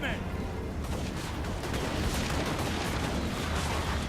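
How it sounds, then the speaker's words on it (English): Handgunner units firing into enemy ranks in the video game Total War: Warhammer, a dense, continuous crackle of battle gunfire and rumbling combat noise at loud level. "See our handgunners firing into the enemy."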